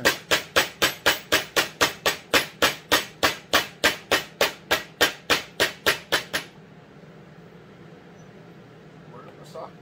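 About twenty steady, evenly spaced hammer blows drive a tight-fitting part into a McCulloch S550 chainsaw, loud and close, then stop abruptly, leaving a quiet room.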